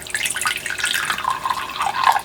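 Warm water pours from a tap or jug into a measuring cup, a steady splashing, trickling stream close by that rises slightly in pitch as the cup fills, with no talking.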